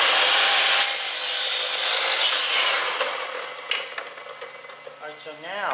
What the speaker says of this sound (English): I have the miter saw set on a 45 to cut this direction